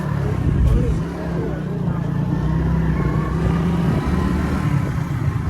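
A motorcycle engine runs through a village near water in Sindh, Pakistan, giving a steady, low drone that holds at a moderate distance for several seconds with faint voices behind it.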